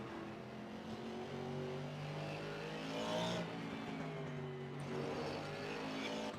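Race cars in Assetto Corsa drone steadily at high revs, several engine tones layered close together with pitches rising and dipping through gear changes, no voices.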